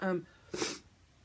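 A single wet, congested sniff from a runny nose, short and close, following a brief bit of speech at the start.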